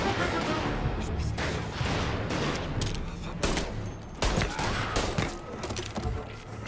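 Rapid video game gunfire in Mafia as shots are exchanged with police, dense volleys of bangs and booms filling the whole stretch with brief dips between bursts.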